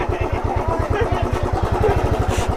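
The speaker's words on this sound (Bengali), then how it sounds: "বাইকটাকে এবার ঢোকানো যাক" A motorbike rolls into a homestay in Lalgunj, its engine thumping in a fast, regular, loud pulse close by, with a faint voice in the background.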